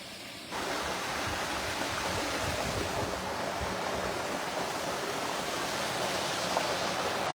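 River water rushing just above a waterfall at Cherrapunji in Meghalaya, a dense, continuous roar of flowing water that rises in after a brief quieter start and holds steady throughout.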